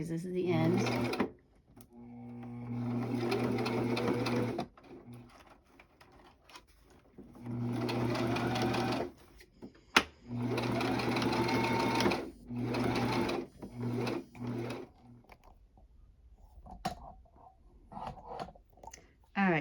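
Sewing machine stitching the end of a heating bag filled with cherry pits, locking the stitch in several close mechanical bursts of rapid whirring separated by pauses, with a person talking in between.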